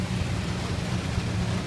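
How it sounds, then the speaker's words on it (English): Heavy rain pours in a steady, dense wash during a rainstorm while a yard is being mowed, with a low rumbling undertone that could be distant thunder or the mower; no one speaks. "I mowed through in this rainstorm for"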